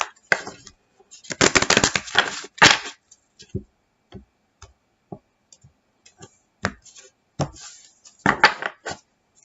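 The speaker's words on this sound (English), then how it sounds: "we'll do one more shuffle" Crisp flicks and riffles of shuffled tarot cards, a few longer riffling bursts among scattered soft taps and clicks, close and fairly quiet.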